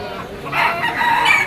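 A rooster crows at a pet market, one loud, close cock-a-doodle-doo rising and holding over a faint, noisy background with no talking.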